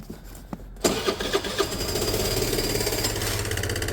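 A motor scooter engine cranks and catches after a few clicks, then settles into a steady buzzing idle close by, with no talk.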